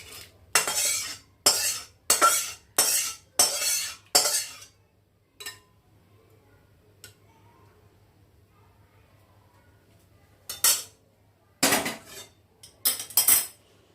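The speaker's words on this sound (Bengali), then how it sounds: "ডালটা এবার আমি এই বাটিতে নামিয়ে নিচ্ছি।" A metal spoon clinks and scrapes repeatedly against a pot while bitter gourd mung dal is ladled into a bowl, in quick bursts, then a pause, then a few more clanks.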